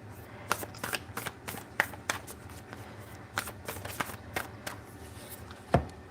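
Oracle cards being shuffled by hand, a series of crisp, close riffling snaps and soft slaps repeating at an uneven rhythm, with one sharper knock near the end, no voices.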